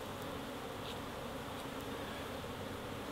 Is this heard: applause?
no